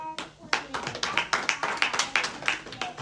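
A church congregation clapping in quick, rhythmic bursts, about a dozen sharp claps in a reverberant hall, with voices cheering underneath.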